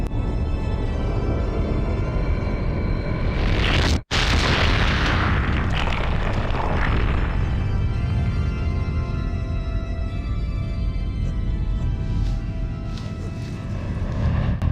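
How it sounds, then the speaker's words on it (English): An idol shattering in a huge explosion in Shadow of the Colossus, a sudden loud boom that swells into a long roaring, crumbling rumble and slowly settles into a low drone over many seconds. "another idol is destroyed"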